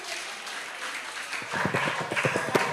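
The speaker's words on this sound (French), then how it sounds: "On l'applaudit, même s'il a raté le penalty." Scattered applause from a small studio audience for a missed penalty, starting faint and building into a short burst of uneven clapping.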